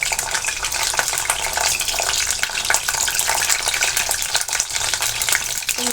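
Cauliflower florets frying in hot oil for a Bhogi mixed vegetable dish give off a loud, dense, continuous crackling sizzle that stays close and steady throughout, with no voices.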